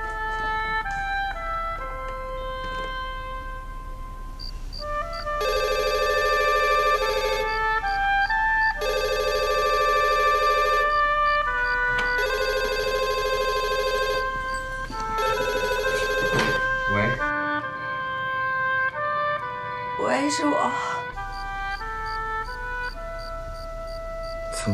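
A telephone rings in a quiet room at night, its electronic bell sounding in repeated bursts with short pauses between them, then the ringing stops and a voice briefly answers.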